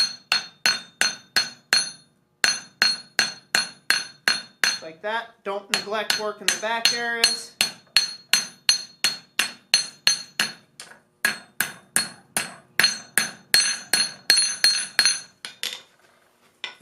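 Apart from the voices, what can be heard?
hammering hot metal while forging a flux spoon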